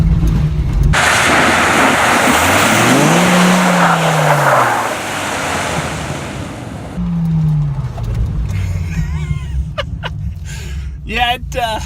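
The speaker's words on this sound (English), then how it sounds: "Now I'm gonna try turning and flooring the accelerator because I'm sure that'll go a lot better." A 2017 Dodge Viper's engine roars loud and close as the accelerator is floored through a turn on a low-traction surface, its pitch rising and falling with the revs amid tire noise.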